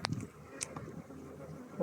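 Honey bees hum in a steady low buzz during a hive inspection of brood frames, with a few nearer buzzes passing close and light handling noises.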